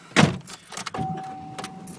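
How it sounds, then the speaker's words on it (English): Someone gets into a car: a sharp thump of the door and a jangle of keys, then quieter shuffling and a second soft knock, close by with no talk. "I'm getting in my car now"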